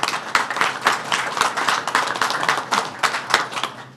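Scattered clapping from an audience honoring a county executive at a winter storm briefing, a steady patter of individual hand claps continuing for several seconds at moderate loudness.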